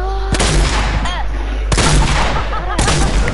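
An enemy firing in a video game, with heavy booming shots repeating every second or so over a loud, dense battle background while voices talk.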